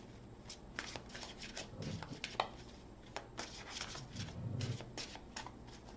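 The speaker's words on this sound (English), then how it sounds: "Okay, 2 more shuffles." Tarot cards are shuffled in quick riffling bursts, soft and close, with brief pauses between the flurries.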